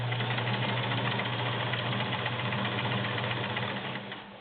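A Kenmore 1802 sewing machine stitching through five layers of felt, a fast steady mechanical whirring hum with rapid needle knocking, close and continuous before easing slightly at the end.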